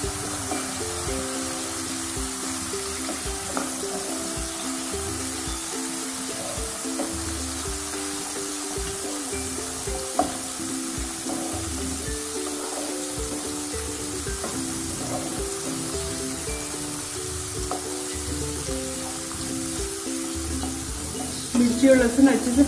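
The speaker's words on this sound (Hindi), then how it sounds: "लहसुन के बाद कुटी हुई मिर्ची, इसको भी हम थोड़ा सा भून लेंगे।" Crushed chillies and garlic frying in a pan for a Rajasthani moth curry, a constant close crackling sizzle with a faint background melody, ending in a few louder clatters.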